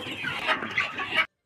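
Sonali chickens in a farm shed cluck in a short, steady burst of overlapping bird calls lasting about a second before cutting off.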